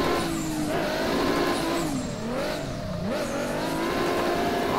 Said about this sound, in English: Just listen to that Supra.